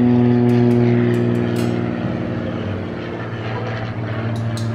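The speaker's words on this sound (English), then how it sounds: "Hype beast getting an airplane just to interrupt you" Airplane passing overhead, a loud, steady engine drone with a deep hum that slowly eases off as it moves away, with faint sharp knocks and no talking.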